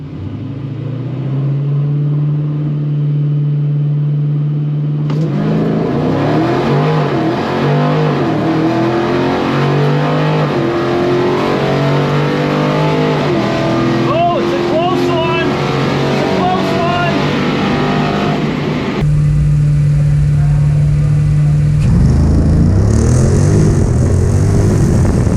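A Dodge Challenger drag car launches in a 1320 Shootout qualifier at Holley MoParty 2022, a loud close roar whose pitch climbs steadily through the run, then drops and swells again near the end.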